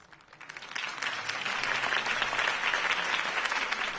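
Crowd applause for a political campaign speech in the Batman Telltale Series game, swelling in over the first second into steady, dense clapping that holds at a loud, even level.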